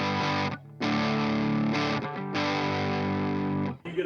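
Crunchy overdriven electric guitar on the bridge pickup through an Orange Terror Stamp amp pedal, with sustained distorted chords ringing out, a brief dip near the start and a pause before the last strum.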